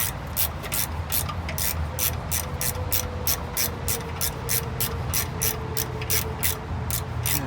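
A ratchet clicks steadily in quick, even strokes while working the turbo bolts on a 2009 Chevrolet Cobalt SS, loud and close, with traffic noise rumbling underneath.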